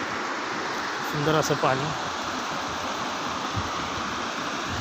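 Constant rushing of river water flowing around the stone Koteshwar temple in the middle of the river, an even, fairly loud wash with a man's short spoken phrase near the start.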